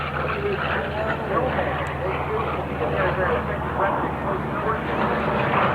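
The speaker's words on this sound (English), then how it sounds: "Those big round engines and the inverted gull wings make them so distinctive." Radial-engine propeller warplanes with inverted gull wings flying past at an air show in Clark County, Indiana: a loud, continuous droning engine roar fills the scene, with an announcer talking over it.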